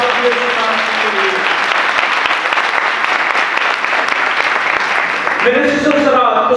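Congregation at a church sunrise service breaking into sustained, loud applause that fills the space throughout, with a voice rising over the clapping near the end.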